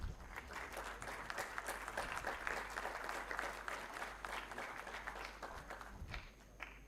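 A lecture-hall audience at a memorial lecture in Jaipur claps in a sustained, even burst of applause lasting several seconds, dense and moderately near, before easing off slightly at the end.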